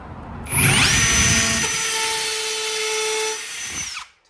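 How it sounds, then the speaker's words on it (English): A drill left in hammer mode whines at high pitch, with a rapid rattling hammer action, running for about three seconds before spinning down. "Didn't realise my drill was still on hammer."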